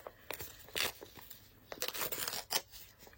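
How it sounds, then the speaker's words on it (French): Embroidery stabilizer is torn by hand during an in-the-hoop sewing project, giving close, quiet bursts of crisp ripping and crinkling over a few seconds. "on attrape un bout du stabilisateur qui est au milieu. Et pareil, on coupe. On déchire."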